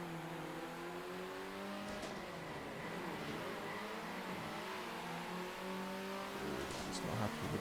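A race car engine in an F1 racing video game revs and shifts continuously, its pitch climbing and dropping through gears at moderate volume with no pauses.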